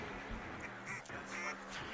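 A person imitates a duck's quack with a few nasal, quacking vocal bursts close to the microphone over a low murmur of background noise.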